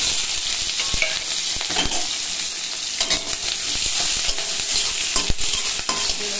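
Bata fish frying with cumin seeds and leaves in hot oil in a pan gives a loud, close, crackling sizzle broken by frequent spattering pops and stirring clicks.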